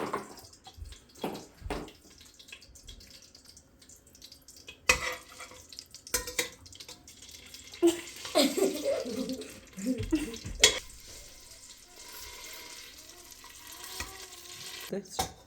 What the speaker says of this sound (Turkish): Arkadaşlar şimdi bir kaşık salçamızı alıp kavuracağız